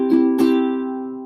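Two quick strums on a guitar, the second hit an extra down strum, then the chord rings on and slowly fades, close and fairly loud with no voice over it.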